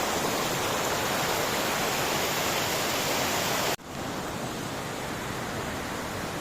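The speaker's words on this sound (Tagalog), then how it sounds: "medyo malakas yung agos dito" Loud, steady rushing water of a fast-flowing river swollen after rain fills the clip, a dense broadband roar that dips abruptly partway through before continuing slightly softer.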